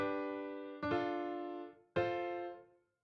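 Sustained synth chords from a drum and bass remix, with three bright, layered chord stabs that each ring out and fade, played alone without drums.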